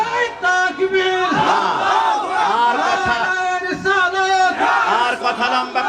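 A large crowd at a religious gathering chants the takbir, Allahu Akbar, in loud, sustained unison. The call and response swells twice.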